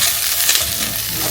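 Seasoned food, dressed with fresh black pepper, stirred in a hot pan, a brief close scrape and sizzle of continuous mixing with no talk.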